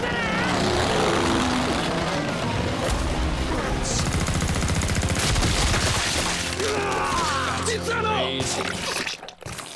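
In an anime battle scene, a plane fires a dense burst of machine-gun fire over a droning propeller engine, loud and sustained for several seconds, with voices mixed in.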